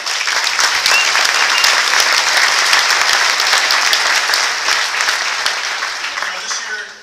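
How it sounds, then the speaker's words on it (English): Conference audience applauding its speakers at a security convention opening, a dense, loud wash of clapping that holds steady for several seconds before tapering off at the end. "So a round of applause to all of our speakers."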